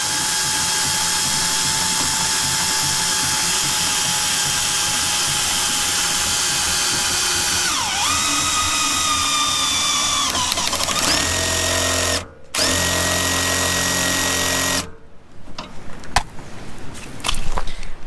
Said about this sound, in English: we'll go ahead and hit it with the drill here